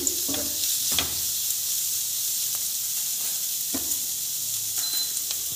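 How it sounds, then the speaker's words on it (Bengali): Ground coriander, cumin and salt stirred together in a hot pan for masala pitha give a steady, close sizzling hiss, broken by a few short spoon scrapes. "মশলাটাকে আমি একটু মিশিয়ে নিচ্ছি।"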